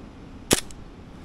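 A single sharp shot from a Novritsch SSQ22 airsoft sniper rifle, heard once as a brief crisp crack against a quiet background with no other sounds around it.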